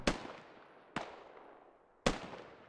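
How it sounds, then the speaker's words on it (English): Three sharp gunshots in a military shooter game, spaced about a second apart, each a loud crack trailing into a short decaying echo, with no talking. "Oh, they're shooting at Honor."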